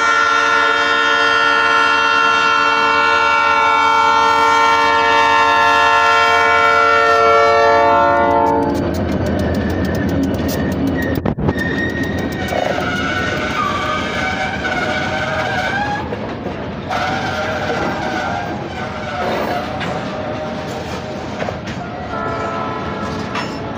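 A long intermodal freight train of 156 cars passes close by, opening with a loud sustained horn that gives way to heavy rumbling, rattling and clattering wheels that carry on to the end.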